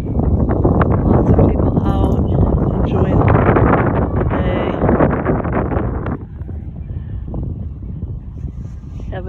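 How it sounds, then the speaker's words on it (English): Strong outdoor wind buffets the microphone on a sunny day in town, loud continuous low roaring gusts that ease off partway through, with no speech over it. "Oh, it's really windy."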